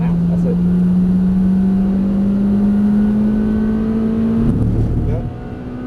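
Honda Type R EP3 hatchback pushed hard on a racing circuit, its engine note climbing steadily in a loud sustained rise heard from inside the car, then dropping away abruptly near the end as the throttle lifts.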